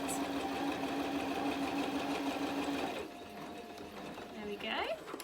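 A sewing machine stitches fabric handles for a reversible tote bag, running in a steady continuous whir for about three seconds before stopping, followed by quieter handling noises and a brief voice near the end.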